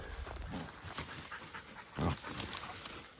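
Several pet dogs pant quickly and rhythmically, fairly faint and close, with a brief louder huff partway through and no talking.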